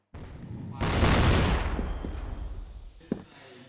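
A grenade explodes in a competitive shooter match, a loud deep blast after a brief lead-in that rumbles and slowly fades, followed by a few sharp distant shots.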